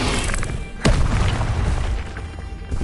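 An Incendio fire spell blast in Hogwarts Legacy: a single sudden booming burst lands partway through, ringing over a constant rumble of game background noise.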